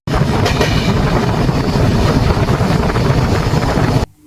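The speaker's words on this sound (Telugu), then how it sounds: "పాలక్కాడ్ నుంచి ముదలమాడ అనే గ్రామానికి రైలు ప్రయాణం చాలా అద్భుతంగా ఉంటుంది" A passenger train runs from Palakkad toward Muthalamada village in Kerala, with a loud, steady wheel and carriage rumble heard from aboard for about four seconds before it cuts off abruptly.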